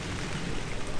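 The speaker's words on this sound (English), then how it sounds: "It's just blowing straight in the blind. And it won't stop. The friggin' weatherman said this rain was supposed to be out of here by 9 o'clock." Rain blows into a hunting blind during a spring turkey hunt in Franklinville, New York, making a steady close hiss and patter of wind-driven drops with no one talking.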